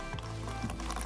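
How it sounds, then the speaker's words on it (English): Water is siphoned out of a glass, a short, soft liquid gurgle and squish heard up close with no talking. "And as you can see, it siphons the liquid out."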